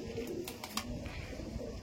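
Home-bred Jamuni Panja racing pigeons coo in a backyard loft, a soft steady murmur with a few sharper calls and flutters close by, no talking over it.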